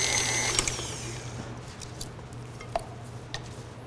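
An electric mixer running on low speed, mixing flour into plum torte batter, with a steady mechanical motor whirr and occasional light clicks of the beaters against the bowl, close by and without talking.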